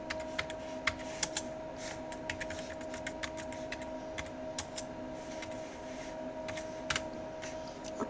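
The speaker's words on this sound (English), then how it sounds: "Let's type in one more." Steady typing on a computer keyboard, a quick run of light clicking keystrokes with occasional heavier taps, close and continuous over a faint electrical hum.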